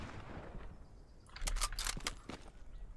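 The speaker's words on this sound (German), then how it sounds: "Hab einen Schuss abgegeben, krieg sofort einen Schuss ab." Gunfire in the World War II shooter Hell Let Loose: a cluster of sharp, loud shots cracks out in quick succession after a quieter stretch of ambient noise.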